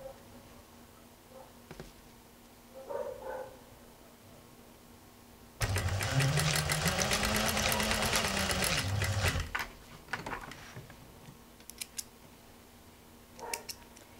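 Sewing machine chain-stitching patchwork blocks, one loud rapid run of about four seconds with a rising and falling motor hum, set amid quiet handling noises and brief soft speech before and after.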